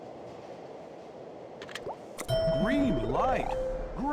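Video game train on a math mission route rolling along with rail clatter and a ding, joined midway by tonal electronic game effects and music sweeps, fairly loud.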